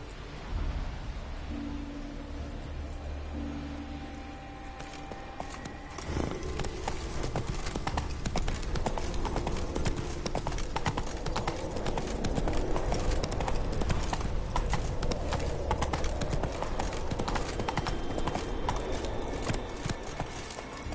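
Horse hooves gallop steadily as Roach is ridden in The Witcher 3: Wild Hunt, a close, continuous clip-clop rhythm that grows busier partway through and runs over game ambience for the whole stretch.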